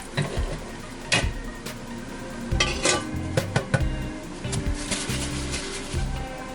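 Metal parts from a Barient 10 sailing winch clatter and clink into a pot, with a run of sharp irregular knocks and scrapes close up, some clusters of rapid taps, and no voices.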